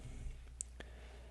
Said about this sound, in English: then click on the first link that comes up